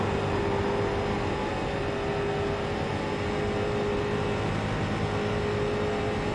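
Race car engines in the iRacing simulator drone steadily at high speed, a continuous loud whirring tone with no clear shifts or pauses.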